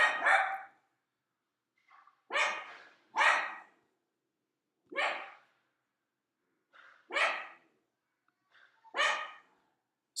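A dog named Roxy, unsettled by noise in an apartment building, gives a series of sharp barks, about six spaced a second or two apart with faint softer yips between, fairly close and alone.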